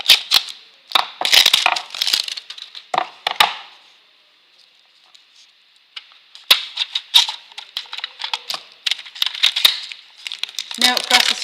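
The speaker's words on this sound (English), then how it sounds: "Let me use a pair of scissors." Scissors snipping through a swatch of material, a series of sharp crisp cuts in bursts with a quiet pause in the middle, close and fairly loud.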